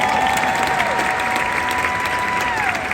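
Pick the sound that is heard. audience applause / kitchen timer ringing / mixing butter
audience applause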